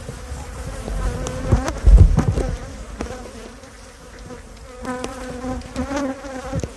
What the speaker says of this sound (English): I don't like these bees.